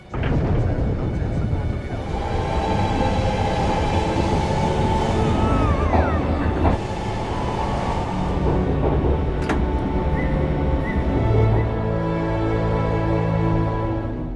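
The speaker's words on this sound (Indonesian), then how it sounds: "Singkat cerita, kereta pun akhirnya diberangkatkan." A Shinkansen train departs with a continuous loud rumble and a rail hum. Metallic squeals and clanks cut in along the way, and voices can be heard faintly under the noise.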